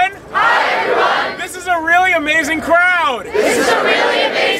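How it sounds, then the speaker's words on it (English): A large crowd at an outdoor student protest assembly in Washington Square, New York, lets out loud sustained cheers and whoops that fill the whole stretch, with voices rising and falling before a final burst of shouting. "This is a really amazing crowd."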